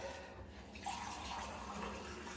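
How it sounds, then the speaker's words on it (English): A kitchen tap starts running and fills a glass with water, a soft, close, steady splashing flow that begins about a second in and continues to the end. "Luckily I film next to the sink"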